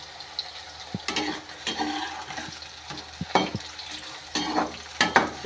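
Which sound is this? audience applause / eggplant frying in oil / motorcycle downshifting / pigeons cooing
eggplant frying in oil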